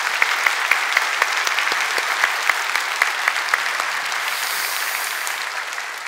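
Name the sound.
congregation applauding in church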